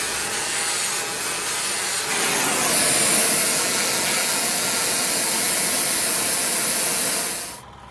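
A torch heats a metal part for a 1946 Ford coil-over mount with a loud, steady roaring hiss held close for several seconds, then cut off abruptly near the end, with no voices.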